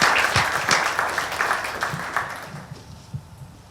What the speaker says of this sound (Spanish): Un aplauso, por favor, para la maestra Claudia.